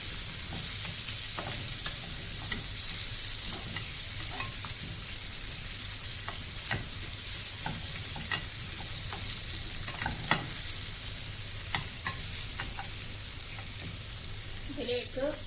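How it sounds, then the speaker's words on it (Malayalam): Banana pieces sizzle steadily in hot oil in a pan, with frequent scraping and clinking of a spoon as they are stirred, close and continuous throughout. "ഏത്തക്ക ഒന്ന് ചെറിയ ഇതായിട്ടൊന്ന് മൂപ്പിച്ചെടുക്കണം"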